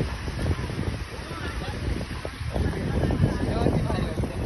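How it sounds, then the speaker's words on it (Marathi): A boat comes closer across open water, heard as a constant loud rumble of engine and water mixed with heavy wind buffeting the microphone, and voices talk over it. "जवळ आले बोट आपली."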